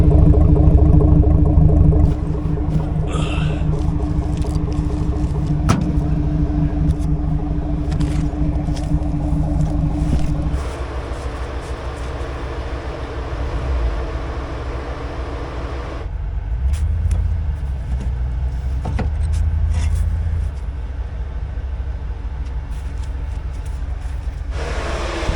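A truck engine labors to drive a vehicle stuck in snow, a loud, low rumbling drone that shifts in pitch several times as the throttle rises and falls, with occasional clanks over the steady roar.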